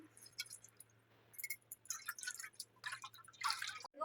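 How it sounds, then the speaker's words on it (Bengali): A full bottle of water poured out to test waterproof makeup, with close, uneven bursts of splashing and dripping coming and going for a few seconds and no voices. "পুরো এক বোতল জল নিয়ে নিচ্ছি আর এইভাবে ঢেলে নিচ্ছি"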